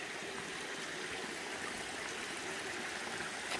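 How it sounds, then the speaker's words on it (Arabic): Ice-cold water rushes at a natural spring outdoors, a steady, dense hiss of flowing water heard up close and without pause, with no voices. "فرايحة انا على النبع"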